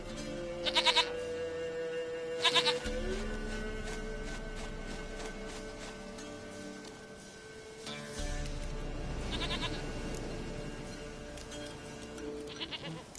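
Goat in The Witcher 3 video game bleating repeatedly over a steady game background, several short, moderately loud bleats spaced out with pauses between them.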